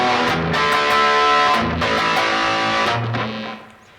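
Distorted electric guitar plays a chunky rock riff alone, loud and close, with repeated chord stabs that ring out and fade near the end.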